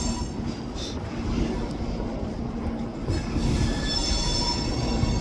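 Railroad cars being switched onto a track, with steady rolling rumble and loud high wheel squeal building over several seconds, close by and continuous with no talk.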